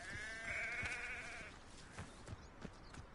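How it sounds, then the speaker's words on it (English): Sheep bleating in the video game Hogwarts Legacy: one long wavering bleat up close during the first half, followed by softer scattered game clicks and thumps, with no talk. "about to blast this sheep"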